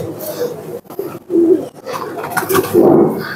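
Pigeons of the teddy breed coo close by in several soft, throaty calls, one after another, against a background of light rustling.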